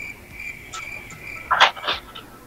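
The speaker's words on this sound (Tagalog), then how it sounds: "Bakit ho bigla hong nagising yung mga kuliglig." Crickets chirp in a steady high trill from nearby, joined by a few louder, sharper insect or frog calls at close range, with no talking.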